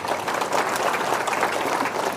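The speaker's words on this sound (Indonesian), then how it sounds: "Tepuk tangan." Steady, dense applause from a crowd at a religious gathering at an Islamic boarding school, even and sustained throughout without pause.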